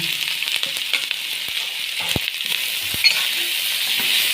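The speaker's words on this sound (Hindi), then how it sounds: "अब हम डालेंगे इसमें चिकन" Chicken pieces hitting a hot oiled pan for Chinese chicken and vegetables, giving a steady, loud sizzle with a few scraping stirs and light pops throughout, no speech.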